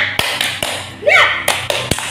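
Children clapping the tepuk semangat rhythm at home during a lesson, a handful of sharp claps in a patterned beat, close and fairly loud, with a brief voice chirp in the middle.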